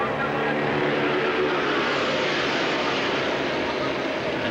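A pack of 1979 Formula Vee race cars at full throttle around Amaroo Park, a continuous buzzing engine roar with a faint tonal whine, loud and sustained; a commentator talks over it.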